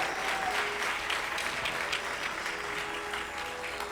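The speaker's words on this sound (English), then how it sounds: "we should give another round of applause for the artists and Tejo Aunty" Audience applauding musicians at a Carnatic music arangetram recital, a steady wash of clapping from a crowd that holds at even strength throughout with no talk over it.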